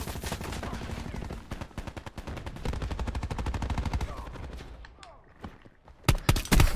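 Galaxy Pistol fire in Black Ops 4 hardcore team deathmatch crackles in rapid bursts of close shots throughout, thinning out near the end before a final cluster of loud reports.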